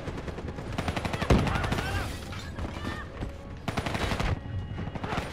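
Rapid gunfire bursts from a Call of Duty: Black Ops 3 campaign firefight, with dense automatic fire and a sharp loud crack near the start, continuing steadily under game clutter and a voice talking.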